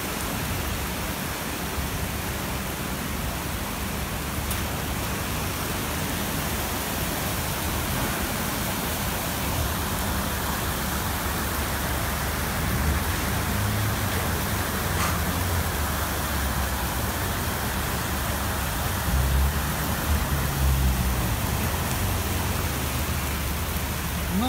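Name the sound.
heavy rain during a flood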